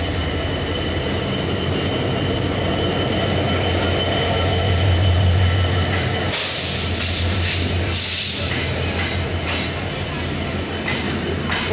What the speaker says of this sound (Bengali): 6624 আমেরিকান জায়ান্ট লোকোমোটিভ নিয়ে পঞ্চগড় থেকে ছেড়ে আসা ঢাকাগামী আন্তনগর ডাউন 794।